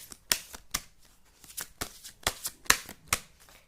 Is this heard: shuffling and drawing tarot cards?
yes